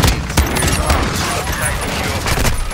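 Dense, continuous gunfire in Modern Warfare 2, with rapid overlapping shots and bursts filling the whole stretch, loud and close, with a player's voice talking over the shooting.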